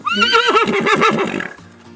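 A horse whinnies loudly and close by as it calls to a companion, one long wavering neigh that trembles through several quick pulses and then fades over about a second and a half.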